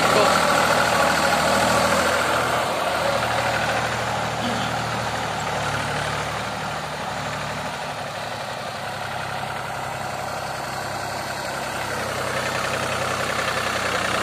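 A Mahindra 265 DI tractor, a 30 HP model with single clutch and inline pump, works soil with a tillage implement, its diesel engine droning steadily and loudly throughout with little change in pitch.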